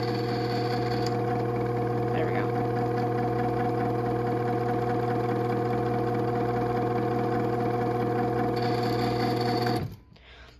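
A Genie Pro 1/3 horsepower screw drive garage door opener, model CM7600IC/A, with a loose vibrating bolt, runs down with a continuous close motor whine and mechanical hum before cutting off sharply.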